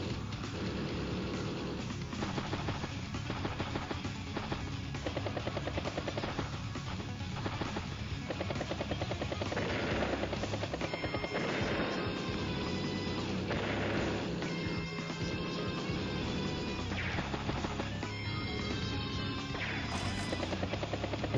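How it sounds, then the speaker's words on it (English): Battlecopter units in the video game Advance Wars: Days of Ruin produce a continuous synthesized rotor chopping, steady and dense, with game music tones layered throughout and no voices. "Another battlecopter. Another battlecopter. Another battlecopter."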